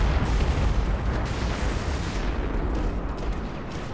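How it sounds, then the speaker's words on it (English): Explosions rumble in the space combat game Strike Suit Zero as a dense, continuous barrage of booms and bursts that stays loud and heavy throughout, with no talking. "Oh, what's with all the explosions?"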